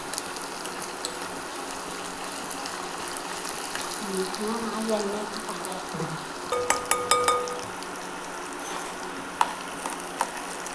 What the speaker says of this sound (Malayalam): പിന്നെ ചെറുള്ളി, ഇഞ്ചി എല്ലാം അതിലിട്ടിട്ട് ഒന്ന് മൂപ്പിച്ചെടുക്കുക